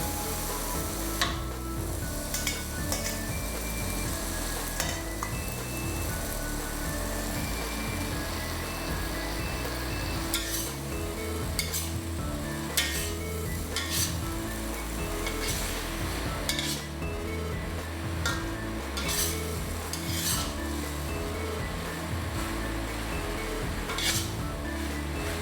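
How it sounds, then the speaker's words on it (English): Minced meat and macaroni sizzle in a pan as they are stir-fried, with a steady frying hiss throughout and frequent clinks and scrapes of a utensil against the pan. "Break up the mincemeat as you fry them."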